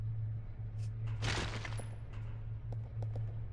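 Gunfire from the headshot pistol in the Resident Evil Zero video game, a burst of loud shots near the start followed by a few fainter ones, over a steady low hum of game music.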